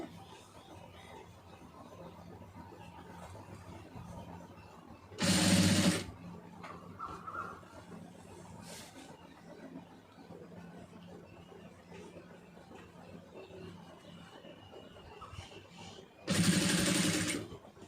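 Sewing machine stitching piping onto fabric in two short, loud bursts of rapid whirring, each under a second long, separated by a quiet stretch of low room noise.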